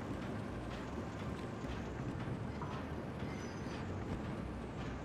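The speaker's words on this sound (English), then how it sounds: "Okay, I've made a choo-choo train." A train rolls along its track in the video game The Legend of Zelda: Tears of the Kingdom, giving a steady, dense rumble with faint clattering that runs unbroken throughout.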